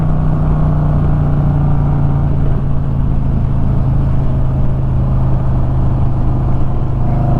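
A Harley-Davidson motorcycle cruises in fifth gear, its engine a loud, steady, low rumbling drone mixed with wind rush that holds even throughout, with no voices.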